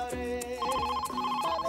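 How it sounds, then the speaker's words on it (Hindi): A phone ringtone chimes in a repeating melodic pattern, clear and close, with no talking. "पापा का फोन आ रहा है."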